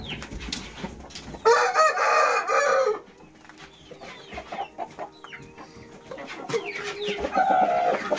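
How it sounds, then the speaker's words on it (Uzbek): Chickens clucking with chicks peeping around them, nearby and fairly loud, with two stronger drawn-out hen calls rising above the scattered chatter. "Jo'jachalar."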